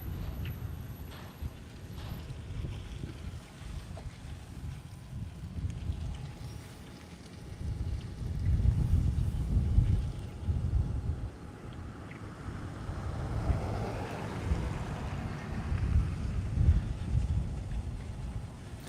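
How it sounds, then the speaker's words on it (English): Strong night wind gusting outdoors at the main gate of the SpaceX Starbase launch site in Boca Chica, Texas, a steady low rumble of buffeting that swells louder in surges, with no talk. "we got a lot of wind tonight"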